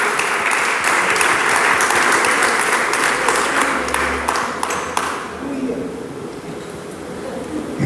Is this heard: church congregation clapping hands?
yes